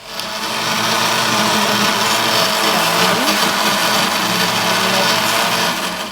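A kitchen blender whirs steadily through a batch of lentil-and-chicken recipe ingredients with salt, stock cube and three chilies, a loud continuous motor drone lasting several seconds with no talk.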